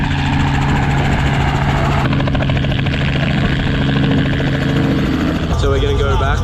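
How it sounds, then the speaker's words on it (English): A helicopter returning to pick up a crab-catching party, its rotor and engine a loud, steady, close roar that fills the whole stretch. "Chopper's coming back to pick us up."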